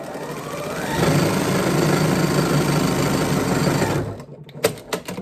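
Sewing machine running steadily as it stitches the long seams of a fabric face mask with vertical pleats, a continuous motor whir for about four seconds that then cuts to a few scattered clicks and handling knocks.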